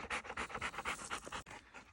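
A dog pants fast and rhythmically close by, outdoors on Steens Mountain in southeastern Oregon, with the quick breaths fairly quiet and a brief pause near the end.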